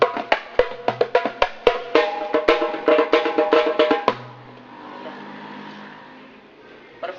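Marawis percussion played by hand at close range, a quick run of sharp hits in a loose rhythm for about four seconds, then a fading ringing tail and quiet room noise.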